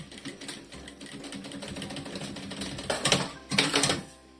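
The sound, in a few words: sewing machine stitching leatherette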